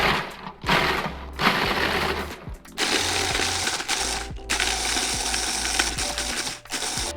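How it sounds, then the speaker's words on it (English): Food processor pulsing graham crackers, several short bursts of motor whirring and crumbly grinding separated by brief stops, loud and close. "I'm gonna go ahead and pop in my graham crackers into the food processor, and then I'm going to just pulse them up a bit"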